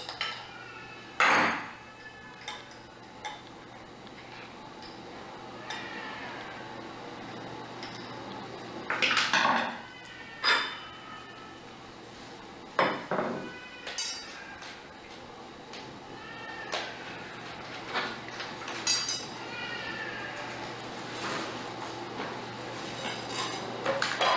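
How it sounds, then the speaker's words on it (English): Adjustable wrench tightening the blade on an Eager Beaver fleshing machine, heard as scattered metallic clanks and clicks of tool on metal over a quiet workshop hum. "And all I do is just use the adjustable wrench here."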